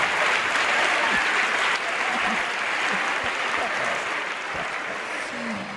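An audience in a church claps steadily in a dense, continuous round of applause that fades slightly toward the end.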